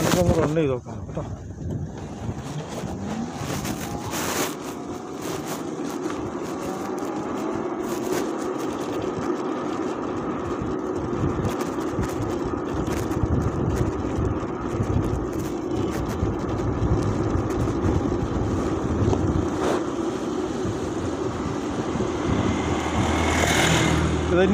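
A low-range electric scooter climbs a steep uphill road, its steady drive whine buried under loud, continuous wind buffeting on the microphone throughout.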